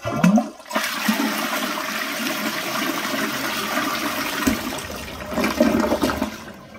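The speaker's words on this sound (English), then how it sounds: "Give it a flush so you can see it in action." A third-generation Eljer Patriot front-flush toilet from the 2000s flushes up close with a sharp start and a strong, steady rush of swirling water that gurgles toward the end, with no talking.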